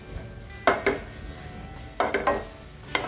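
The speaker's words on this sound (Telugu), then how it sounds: "ఇప్పుడు స్టవ్ని సిమ్లో ఉంచి ఈ మిశ్రమం అంతా కూడా దగ్గర పడే వరకు కలుపుకోవాలి" A spoon scrapes and clinks against a pan while a coconut and cardamom filling is stirred on a stove kept at low heat, with three clusters of metallic knocks separated by quieter stretches and no talk.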